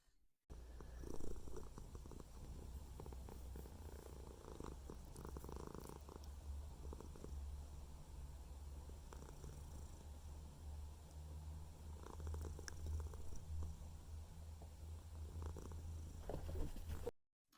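A cat purrs softly and close by, a continuous low rumbling with a gentle rhythmic pulse that keeps up unbroken for the whole stretch, with no voices.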